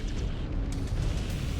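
Cannon impacts exploding nearby in MechWarrior 5: Clans, a dense, continuous rumble of booming blasts with a few sharper cracks rising out of the low roar.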